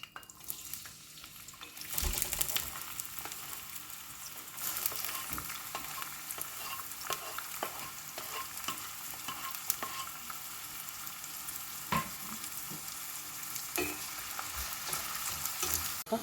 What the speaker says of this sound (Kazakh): Баклажанды, пиязды осылайынша ұсақтап турап алдық. Қазір енді қуырып аламыз.